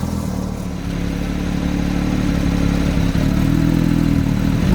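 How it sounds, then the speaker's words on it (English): A new Porsche 911 GT3 engine idles while the car stands still, giving a loud, steady, gruff mechanical drone with a slight clatter, close by and without talk. "It's got a mean and nasty bark, this car, and that's just when it's standing still."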